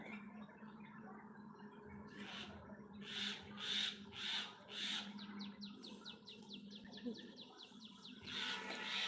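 A common myna calls nearby in a series of repeated sharp chirps and rapid chattering notes, coming in bursts over a faint steady background hum.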